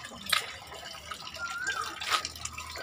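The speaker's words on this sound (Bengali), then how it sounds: "হ্যাঁ দাও গাছে জল দাও, এখানে এই গাছে" Water splashes and drips as it is poured from a mug onto a plant outdoors at a home. The splashes come in faint, intermittent bursts over low background noise, and a voice speaks softly in between.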